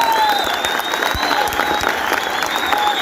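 An audience claps in dense, sustained applause with a few scattered cheers, and a faint voice or whistle lingers underneath.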